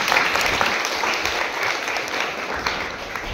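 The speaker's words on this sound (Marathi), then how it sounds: "तिच्यासाठी आपण एकदा जोरदार टाळ्या वाजवू" Students in a school classroom break into loud, sustained clapping for a classmate's birthday, a dense steady wash of hands without a break.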